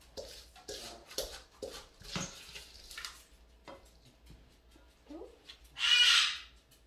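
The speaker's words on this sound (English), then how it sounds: "That is the cockatoo," A pet cockatoo indoors lets out a loud, harsh screech near the end, after a stretch of softer squawks and chatter mixed with quiet talking.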